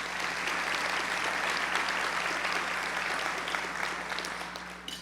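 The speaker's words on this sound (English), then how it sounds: "Please give them a round of applause." An audience at a school district event applauding its sponsors, sustained broad clapping from a large crowd under a steady hum, tapering off slightly near the end.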